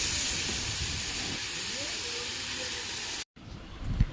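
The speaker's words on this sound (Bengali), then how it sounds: "চিংড়ি মাছগুলোকে ভেজে নেওয়া হচ্ছে এখন" Prawns hiss and sizzle steadily in hot oil in a home kitchen, a continuous broadband frying noise that breaks off briefly near the end before resuming with a few louder spatters.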